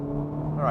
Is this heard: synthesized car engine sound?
yes